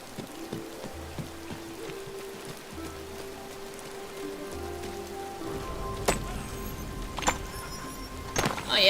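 Steady rain falls in the video game Disney Dreamlight Valley, a soft continuous hiss under gentle game music tones, with a few louder splashes and knocks toward the end.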